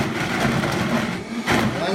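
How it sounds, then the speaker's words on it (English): A Vitamix blender runs on its lowest setting, giving a steady, close, broadband motor whir with a low hum beneath that holds for the whole stretch and briefly swells near the end. "So I'm going to use my Vitamix, and we're going to turn it on, and always make sure you start out on the lowest setting."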